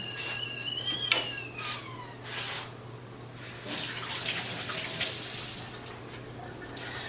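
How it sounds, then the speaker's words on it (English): A tea kettle heats water for a bain-marie somewhere in a kitchen, giving a rising, hissing, bubbling rush with faint whistly tones and scattered clinks, moderately loud and unbroken by talk. "That's the tea kettle in the background, heating up the water for the bain marie."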